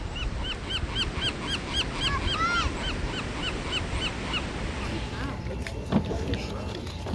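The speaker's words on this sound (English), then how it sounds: "Feeding the seagulls." Seagulls being fed at Malibu Beach give a string of repeated sharp squawking calls over the steady wash of surf, fairly close and clear, thinning out toward the end.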